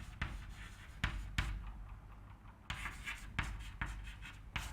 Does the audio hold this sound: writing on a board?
yes